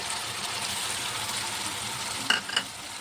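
Onion, spices and tomato puree sautéing in hot oil in a pan for a black pea curry give a steady, close sizzle throughout, with a couple of sharp clinks from stirring near the end.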